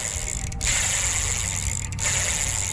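A freshly lubricated mountain bike drivetrain on a Mongoose MTB spins freely, giving a steady mechanical whir with a faint ratcheting texture that runs continuously and close by, briefly dipping twice.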